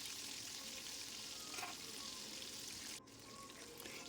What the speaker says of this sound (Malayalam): രണ്ട് സൈഡും നന്നായിട്ടൊന്ന് ഫ്രൈ ആയി കിട്ടണം.